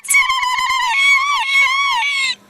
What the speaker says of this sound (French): Quand je fais des youyou, je me sens très ravie et puis très contente.